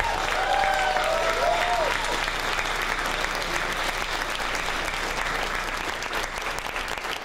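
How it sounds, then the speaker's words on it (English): A crowd applauds steadily and loudly at the closing ceremony of a furry convention, with a few whoops and whistles rising early on before the sound settles into a dense, continuous wash of clapping. "Everybody give them a round of applause."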